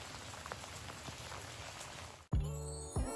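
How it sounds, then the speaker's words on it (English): Gentle rain patters steadily in a garden on a rainy day, then cuts abruptly to a louder, different tonal sound with sharp bursts near the end. "Oh, peaceful rainy day."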